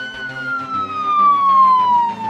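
A cartoon fire truck's siren wails steadily with a slowly falling tone, loud and close, with no talking over it.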